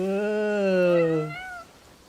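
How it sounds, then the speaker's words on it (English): A single drawn-out cat meow in the Crimson Desert open-world video game, loud and close, with a steady tone that bends downward and fades. "Yo, I got a cat."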